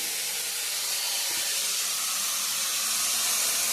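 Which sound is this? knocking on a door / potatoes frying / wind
potatoes frying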